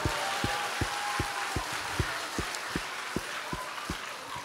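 A congregation at a Korean church revival prayer meeting claps together in a steady, even rhythm, with sharp claps about every half second over a continuous murmur of crowd noise.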